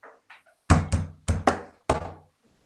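Tap shoe heels strike the floor in a short series of five loud, close thuds with uneven spacing, following a couple of faint lighter taps, with no talking.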